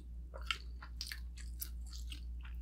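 Close, crisp crunching bites of grilled Filipino pork intestines on skewers, several quick crackly chews in irregular rhythm over a low steady hum, with no talking.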